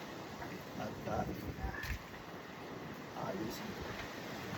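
Strong wind blows across an outdoor vegetable garden, making a steady, broadband rushing roar with gusty swells close to the mic. Brief faint voice-like sounds surface under the wind.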